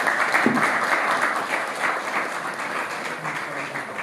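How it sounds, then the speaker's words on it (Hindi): An audience at a school bhajan programme at Dayanand Public School, The Mall, Shimla, applauds to welcome the principal: continuous crowd clapping, steady and moderately loud, easing slightly toward the end. "कृपया तालियों से स्वागत कीजिए।"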